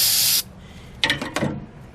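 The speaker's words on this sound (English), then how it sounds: "And then we'll use compressed air" Compressed air blasts residue off the 2.0L Zetec engine of a 1998-2003 Ford Escort, starting with a loud, close hiss that cuts off, followed by several shorter, quieter bursts of air.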